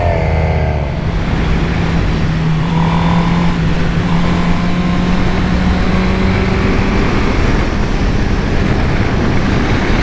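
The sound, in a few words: sports bike motorcycle engine while riding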